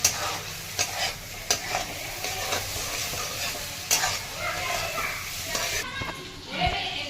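Chopped tomato sautéing with onion, ginger-garlic paste and green chilli for paneer bhurji, a steady sizzle with repeated spatula scrapes and clinks, close, with faint background voices.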